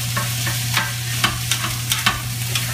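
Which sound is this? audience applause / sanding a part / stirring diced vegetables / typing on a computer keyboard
stirring diced vegetables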